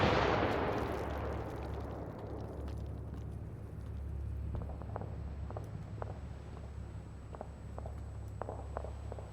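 Mortar fire in the Six Days in Fallujah video game starts with a heavy blast, then a low rumble lingers while sharp distant shots crack at irregular intervals.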